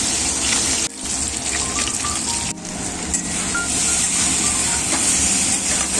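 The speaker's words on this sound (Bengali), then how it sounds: "মাছটা ভাজা" Fish sizzles as it fries in hot oil in a kadai, giving a loud, steady hiss and crackle that runs throughout with a couple of brief dips, no voices.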